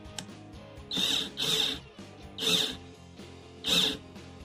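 A cordless drill driver drives a screw flush into wood in three short bursts of whirring and ratcheting, each stopping abruptly, with quiet mechanical clicks in the gaps.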